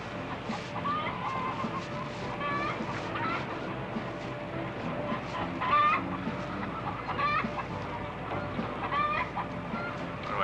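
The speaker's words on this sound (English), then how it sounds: "Chickens." Chickens cluck steadily in a cowboy movie, a busy flock of short repeated clucks and squawks over constant farmyard background noise, fairly close and continuous throughout.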